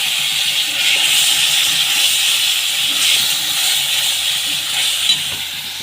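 Ginger and garlic paste frying in hot oil, giving a steady, loud broadband hiss that holds evenly throughout with no pauses.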